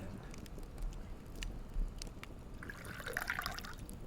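Water poured out in the survival game Last Plague Blight, a soft trickling and dripping stream with patter, brighter splashes near the end, moderately close.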